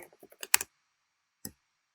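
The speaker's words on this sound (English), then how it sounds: "Typing and talking." Keys on a computer keyboard are typed in a short burst of uneven clicks, close and clear, then a pause and one last isolated keystroke, with no talking.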